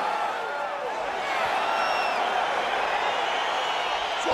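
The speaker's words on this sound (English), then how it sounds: "crowd getting excited as this fight gets underway" A virtual arena crowd in EA Sports UFC 4 cheers as a fight gets underway, a steady, full roar of voices that swells slightly and holds throughout.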